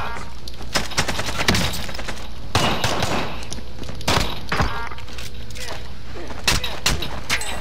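Gunfire in a Call of Duty match: repeated sharp shots and bursts crackle across the whole stretch, loud and close, with heavier impacts mixed in and voices talking over the action.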